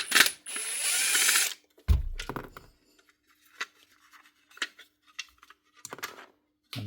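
Screws are worked out of a Hikoki NT1865DBL nail feeder with a ratcheting hand tool: a long whirring run, then a series of short, close clicks and taps separated by quiet gaps.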